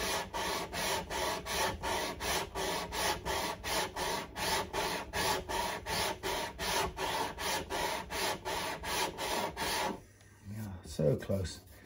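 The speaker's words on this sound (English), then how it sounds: "tidy up the sanding marks, so we end up with a nice smooth surface." Rhythmic back-and-forth rasping of sandpaper on a Washburn acoustic guitar's wooden fretboard during a refret, close and steady, about two strokes per second, stopping near the end as a voice begins.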